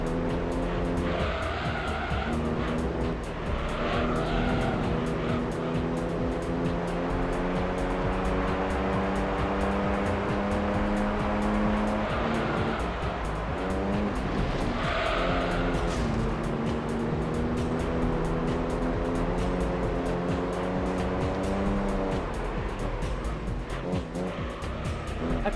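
An expensive Mercedes fitted with upgraded brakes, tires and weight reduction roars around a track in Gran Turismo 3, its engine note rising through steady gear changes, with tire squeal and skidding as it corners, close and continuous.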